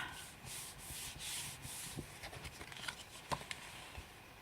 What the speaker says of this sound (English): just turn it over, make sure it doesn't slip, and just give it a bit of a rub